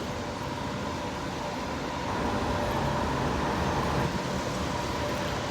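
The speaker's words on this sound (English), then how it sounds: "so there's a lot of noise on the road." Road traffic heard on a walk beside a busy road, a steady broadband roar of passing vehicles that swells slightly midway and continues without a break, with no voices over it.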